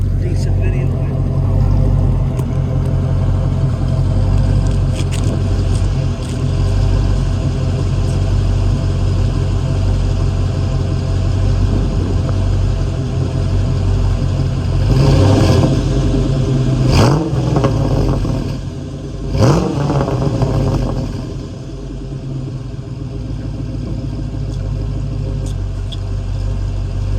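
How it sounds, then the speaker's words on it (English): An LS3 V8 swapped into a third-generation Toyota Tacoma with Fuel Tech headers and an MBR exhaust, droning steadily up close with a few sharp revs building midway before easing back to a deep rumble. "with this exhaust setup, this thing sounds really good with a V8 in it"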